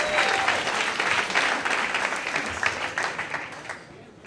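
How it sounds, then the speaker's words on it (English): A comedy club audience gives a big round of applause as a comedian is welcomed to the stage, a dense wash of clapping that is loud at first and gradually fades over about four seconds. "Ben, big round of applause."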